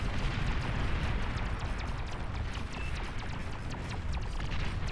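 Dense, continuous rumbling barrage of D-gun blasts and explosions from a large 8v8 Beyond All Reason battle, with crackling impacts layered throughout at steady loudness.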